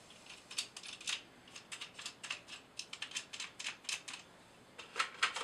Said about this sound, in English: all these are just little thumb screws, basically is all that is. They just get loosened up.